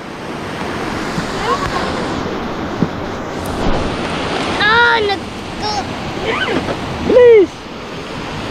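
The Maapon River at Sampaloc, Quezon flows past in a constant loud rush close to the microphone, with wind buffeting and people talking over the water.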